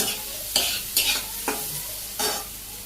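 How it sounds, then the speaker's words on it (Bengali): Stir-frying in a pan after salt, turmeric and chili powder go in, with a loud steady sizzle and four or five distinct stirring scrapes spaced about half a second apart. "সামান্য হলুদের গুঁড়ে সামান্য মরিচের গুঁড়ে নাড়াচাড়া করে ভাজি করে নিই"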